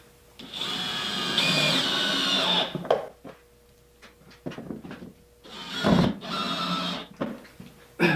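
Power driver tightening screws into the base plate of a Kreg K4 pocket hole jig in a workshop: two loud sustained whirring bursts separated by quieter clicks and handling knocks, with no talking.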